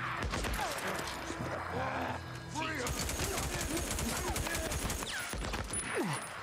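Rapid bursts of enemy gunfire in the video game Days Gone, dense crackling shots repeating steadily over a busy background of game sounds and music.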